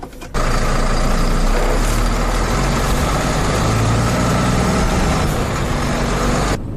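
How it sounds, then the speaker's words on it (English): A Scania 560S truck with a 13-litre straight-six diesel engine on the road, a loud steady drone with deep low rumble that holds constant from start to finish with no voices. "So we set off on the drive in the 560S, Scania's 13-litre straight 6-cylinder diesel engine."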